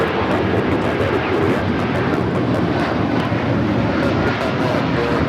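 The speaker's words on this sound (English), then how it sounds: "This is Hawaiian Airlines Flight 3 taking off to Honolulu on the A330-200" Hawaiian Airlines Airbus A330-200 jet taking off from LAX bound for Honolulu, a loud, steady broadband engine roar that holds constant throughout with no voices over it.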